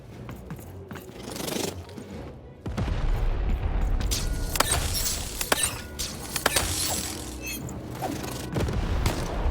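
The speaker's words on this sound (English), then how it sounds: "to fire the cannon" Cannon fire in the video game Lost in Random, with a burst of booming, crackling blasts that starts sharply partway in and keeps up as a loud, busy barrage of impacts, with game noise underneath.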